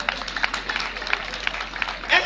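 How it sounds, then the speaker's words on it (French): Audience at a French-speaking gathering applauding for doctors: a short burst of crowd clapping, dense and moderately loud, with irregular sharp hand claps over a soft background for about two seconds. "Non, applaudissez pour les médecins."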